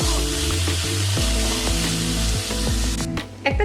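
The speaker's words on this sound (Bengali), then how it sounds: "ভালো করে আমি এটা তেলের সঙ্গে ভেজে দেব।" A green chili fries in hot oil in a pan, giving a steady, close sizzle with small crackling pops throughout and a brief clatter near the end.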